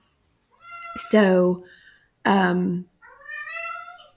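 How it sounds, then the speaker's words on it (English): A pet cat meows three times, loud and close, with drawn-out, wavering cries separated by short gaps; a person briefly speaks nearby. "my cat, I don't know what he's doing, but he's acting crazy. So I'm sorry for that noise."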